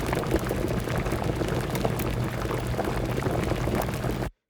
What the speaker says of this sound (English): that's just straight stovetop potato boiling, sounds off-center, very noisy.